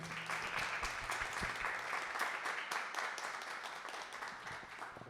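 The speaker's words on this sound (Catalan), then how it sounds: "Ara sí, un aplaudiment per la Sílvia i per la Núria." Audience applause for two guests at a school interview event, steady fairly faint clapping from a crowd for about five seconds.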